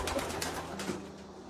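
A racing pigeon, a prize-winning long-distance champion cock bird in a loft, gives a couple of soft low coos, faint and close, against a quiet background.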